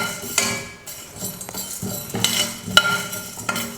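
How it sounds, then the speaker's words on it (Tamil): Coriander seeds dry-roasting in a pan for homemade garam masala, heard as close, repeated scraping stirs with metallic clinks and a faint sizzle between them. "மல்லி விதையை வந்து நல்லா வறுத்துக்கிட்டேன்."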